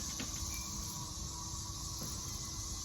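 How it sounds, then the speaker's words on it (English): Cicadas swarming an apple tree in a spiral garden in May make a steady, dense, high-pitched buzzing drone that runs unbroken throughout, fairly loud and close. "my apple tree is just covered in cicadas."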